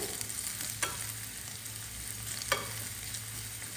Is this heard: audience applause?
no